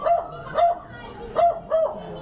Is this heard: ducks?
no